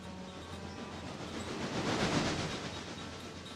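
Passenger train in the video game Railroader rolling along with a steady broadband rumble and faint clickety-clack, swelling slightly in the middle of the stretch, no voices.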